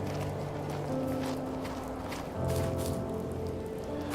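Steady rainfall in the indie video game The First Tree, a dense hiss of drops pattering continuously under low background tones, moderately loud and unbroken throughout.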